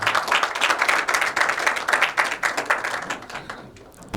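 At a tech day gathering in a hotel, a modest audience claps, the individual hand claps clearly audible as a quick, uneven patter that thins out and fades toward the end.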